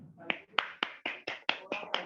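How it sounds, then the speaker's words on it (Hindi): Participants in a Zoom session clap in sharp, evenly spaced beats, about eight close, crisp hand claps over two seconds with brief silences between them. "एक जोरदार तालियां"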